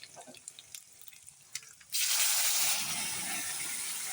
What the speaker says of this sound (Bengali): এখন আমি জল দিয়ে ধুয়ে দিয়ে দিলাম